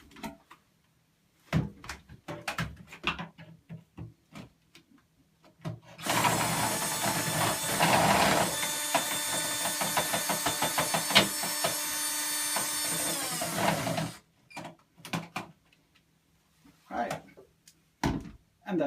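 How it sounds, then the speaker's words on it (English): A drill boring a hole through a bathroom vanity in one loud, steady whine lasting about eight seconds, close by, with clattering handling noises and someone talking before and after. "now I'm going to drill a hole in the vanity so we can get the tube through."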